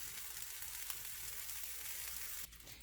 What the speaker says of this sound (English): I just love that sizzle